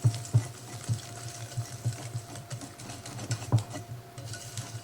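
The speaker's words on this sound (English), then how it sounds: "I'm just going to see how I usually just whisk up my cake mixes anyway." Hand whisk beating boxed cake mix with water, oil and eggs in a bowl, a steady series of soft rhythmic taps and scrapes at close range.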